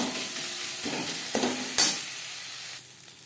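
Turmeric and spices fry in a pan for chana dal, a steady soft sizzle with a few stirring scrapes and one brief louder clink near the middle, no voices.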